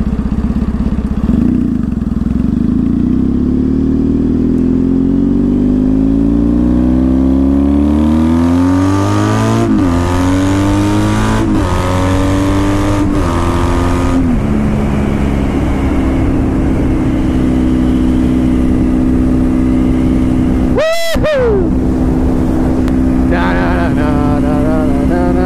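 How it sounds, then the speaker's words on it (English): A car engine revs hard and accelerates on a freeway, loud and close throughout, pitch sweeping upward through repeated gear changes, with a brief sharp burst near the end. "Get a little freeway action, open up the throttle"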